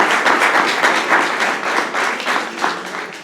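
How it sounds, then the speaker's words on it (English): A district audience at a city council State of the District event in May 2023 applauds, a steady broadband patter of many hands clapping, moderately close, continuing evenly with no talk over it. "so let's give him a round of applause"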